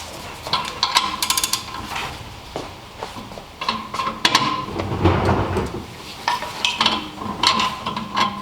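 Metal clinks and scrapes of brake caliper bolts being worked free on a 2003–2009 Toyota 4Runner rear brake, with repeated rattles and taps close up, fairly loud throughout.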